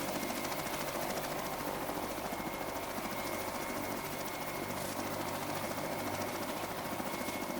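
A helicopter with a steady droning whine and fast rotor flutter, constant and fairly loud, with a faint metallic hum throughout and no speech.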